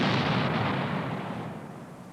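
A demolition charge set off by assault pioneers in a beechwood to clear a field of fire: a loud, broad blast rumble already rolling at the start, fading slowly over about two seconds with no voices.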